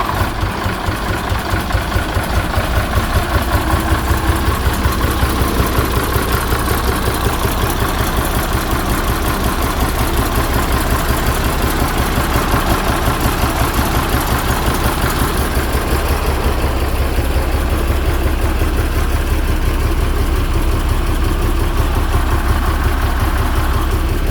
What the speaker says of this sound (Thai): เครื่องยนต์ติดแล้วนะครับ